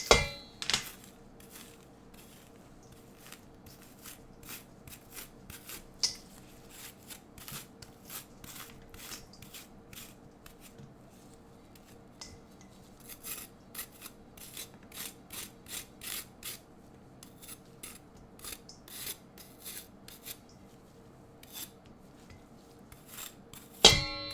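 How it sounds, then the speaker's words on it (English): A carved pumpkin lid being scraped clean of its innards, giving repeated soft scratching and scraping strokes in quick irregular bursts, close and fairly quiet with no talking. "So right now I'm scratching them off of the lid."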